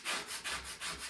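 Scraping chalk paste off a stencil, a few soft rhythmic back-and-forth strokes, faint and close with no voices.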